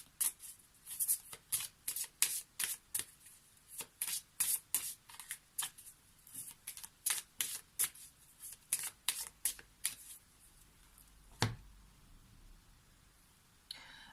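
Oracle cards being shuffled by hand, a rapid run of crisp riffling flicks in quick bursts, then a pause and a single slap near the end, close and fairly quiet.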